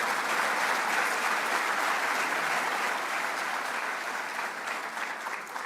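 Sustained applause from an audience at a governor's economic development event, a dense even wash of clapping that holds steady and then eases slightly toward the end, with no talk over it.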